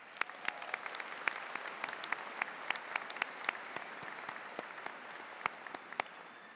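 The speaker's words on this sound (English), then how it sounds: "we give you a huge round of applause for all that you've done" Sparse audience applause at an ASU Prep high school commencement, scattered individual claps ringing out over a quiet, distant room for several seconds.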